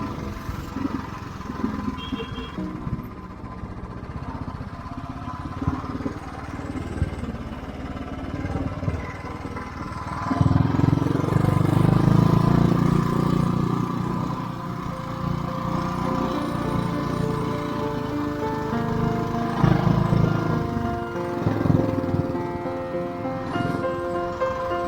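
Motorcycles ride uphill on a gravel road in Nagaland, their engines droning steadily with rough, shifting revs throughout, louder near the middle, with no speech over them.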